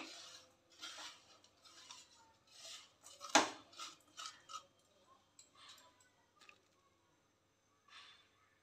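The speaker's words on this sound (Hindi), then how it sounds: "इसे हम चलाते जाएंगे तो वो जल्दी मेल्ट हो जाएगा।" Jaggery being stirred in a pan over low heat to melt it, with intermittent scraping and clinking of a spoon against metal, one sharper knock midway, then quieter gaps.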